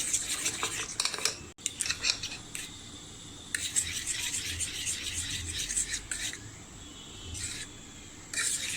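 Curd being stirred into a kharvas mixture in a bowl, a soft scraping and rubbing of a spoon against the sides in short, uneven strokes with brief pauses, close and fairly quiet.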